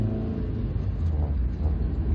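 A 1995 Rover 214 Si (R3) driving along the A3 road, heard from inside as a low, steady engine rumble with road noise, fairly quiet and without talk.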